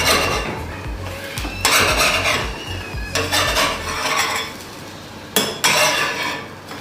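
Spatula scraping under little omelettes in an oiled frying pan, shifting them around with repeated metallic scrapes and clinks over a soft sizzle, close and fairly loud.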